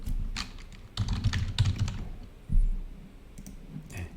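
Computer keyboard typing during a software demonstration: clusters of quick, close key clicks in short bursts separated by pauses, with a few sharper single presses, including the Tab key.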